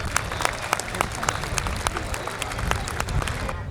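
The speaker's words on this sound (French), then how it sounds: "On applaudit très fort les 4." An outdoor crowd at an air show in Dinan applauds the four performing pilots, giving steady, dense clapping with no pauses that fades slightly at the very end.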